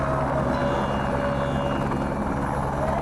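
A helicopter leaving Ghangaria for Gobind Ghat on the Hemkund Yatra route gives off a constant, loud, low rotor drone with a pulsing beat throughout.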